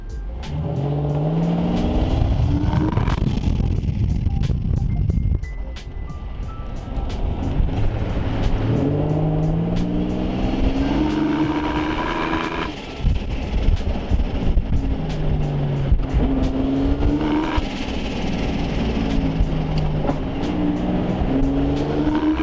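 A turbocharged Mitsubishi Pajero engine revs hard while driving, loud and close, with repeated rising and falling gear pulls and a steady drone throughout.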